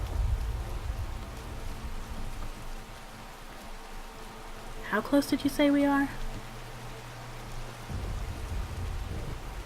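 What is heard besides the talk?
rain in the video game Skyrim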